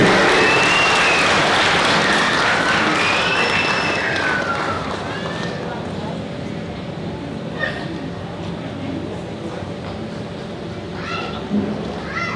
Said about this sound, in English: Shall we all give it a louder round of applause